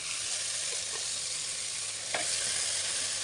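Meat dropped into a pan of fried spice paste sizzles loudly and steadily, a dense close frying hiss with a faint stir or scrape near the middle and no voices.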